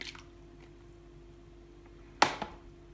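Mixed vegetables for pickles, including carrots, pressed by hand into a jar until the brine overflows: a quiet stretch, then one sudden close squelching splash with a short wet trailing drip.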